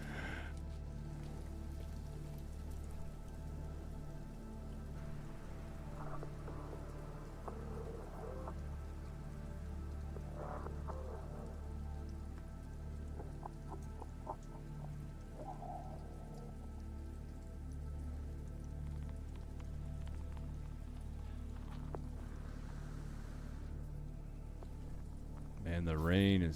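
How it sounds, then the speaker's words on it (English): Rain falls in the video game No Man's Sky as a soft, steady patter of drops under a low background hum, joined by scattered game tones and effects throughout. "Man, the rain is killing me."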